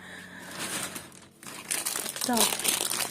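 Plastic bag of almonds crinkled and rustled by hand, close, loud crackling that starts moderately, pauses briefly and grows more intense, with a voice speaking at the same time.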